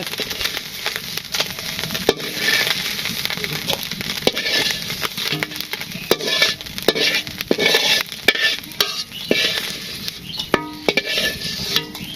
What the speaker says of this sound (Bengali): তো মাছও প্রায় ভাজি হয়ে গেছে